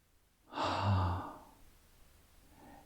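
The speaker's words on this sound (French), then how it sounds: "juste de respirer, prendre quelques respirations profondes" One slow, deep, breathy exhale, loud and close, rising quickly and then fading out, followed by a fainter second breath in a quiet room.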